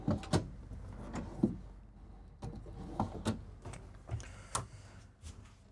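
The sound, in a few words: drawer opening and closing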